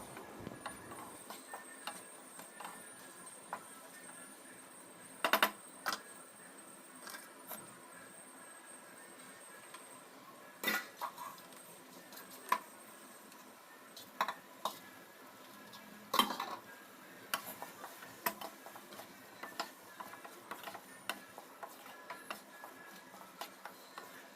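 A utensil scrapes and clinks against a metal pan while stirring carrot curry, in sparse, irregular knocks over a quiet background.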